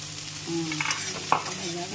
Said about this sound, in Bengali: এখন ভাজা ভাজা হচ্ছে।